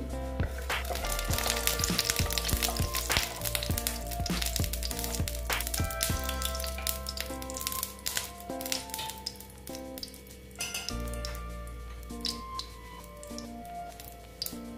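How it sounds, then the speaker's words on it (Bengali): Oil heating in a pan before tempering for a Bengali kakrol (spiny gourd) dish, a steady close sizzle and crackle with scattered sharp pops, running continuously without talk. "এখন তেল দিয়ে দিচ্ছি। তেলটা গরম হতে দিচ্ছি।"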